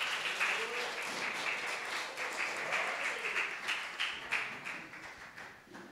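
A church congregation claps steadily for several seconds during a family worship service, a dense patter of applause that gradually thins out toward the end.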